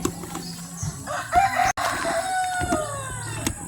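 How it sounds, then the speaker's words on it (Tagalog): A rooster crows once in a garden, a drawn-out call rising and falling over the space of a few seconds, fairly close and clear with light background noise. "Pilaok na manok"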